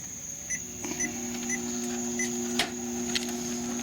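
A treadmill's electronic controller powers on with a few short beeps and a steady electrical hum, with small clicks from buttons being pressed.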